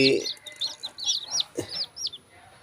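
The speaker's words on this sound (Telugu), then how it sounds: "పెరు ఒరిజినల్ అండి ఇవి ఇప్పుడు చూడొచ్చు వైట్ నైట్కి సంబంధించిన పిల్లలు" Young Peru White Knight chicks peep in a series of short, high chirps, a rapid irregular run of close, moderately loud calls with a low cluck or two mixed in.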